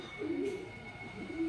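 Pigeons cooing around a home coop at dusk, with soft low throaty coos, close and moderately quiet, under a faint steady background hum.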